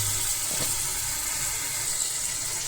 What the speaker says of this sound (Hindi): तो मैंने इसमें हल्का सा पानी डाल दिया है ताकि ये जो मसाला सारा है ये अच्छे से पक जाए